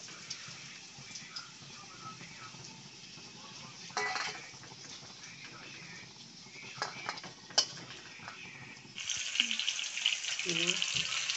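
Fish fries in hot oil in a wok, a faint continuous crackle and hiss with scattered ticks and occasional utensil clinks, louder and busier sizzling in the final seconds; a person speaks over it.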